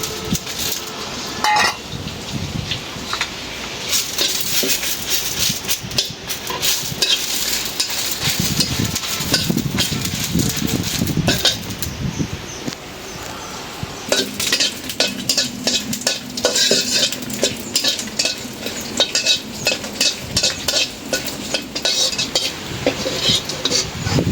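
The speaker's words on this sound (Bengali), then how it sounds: "এখানে পেঁয়াজ, রসুন, কাঁচামরিচ ভাইজে নিচ্ছি। এখন দিয়ে দিলাম শুকনো মরিচ।" Onion, garlic, green chillies and dried chillies frying in a pan, a close, continuous sizzle broken up by frequent stirring scrapes and clinks of utensil on metal.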